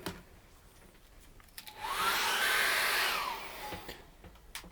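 A hairdryer blows over fresh acrylic paint: a single burst of whooshing airflow swells up, holds for about two seconds and cuts off, fairly close and alone with no talk.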